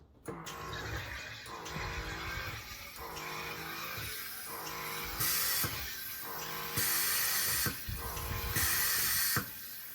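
A SodaStream E-Duo glass-bottle sparkling water maker carbonates water at its highest fizz setting, giving a loud steady hiss of gas through the liquid with repeated bursts and surges over ten seconds, close up and without talk.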